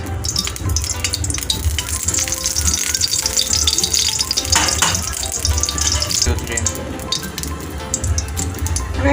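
Beaten eggs are frying in hot oil in a pan, giving a close, continuous crackling sizzle that carries on steadily throughout.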